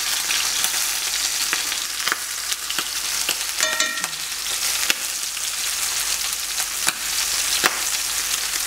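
Abalone frying in a hot, salted pan outdoors, giving a steady dense sizzle with scattered pops and scraping stirs, close and loud throughout.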